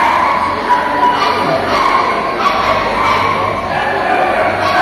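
Several dogs bark and yip at a free rabies vaccination event in Bacoor City, scattered barks mixed into a busy crowd where people talk nearby.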